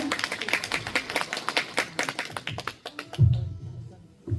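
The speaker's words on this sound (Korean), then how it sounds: "여러분 박수 부탁드립니다." Scattered clapping from a small audience in a hall at an evaluation meeting for a Daegu program supporting elderly people living alone, welcoming a volunteer; quick uneven claps thin out after about three seconds, ending with a dull thump.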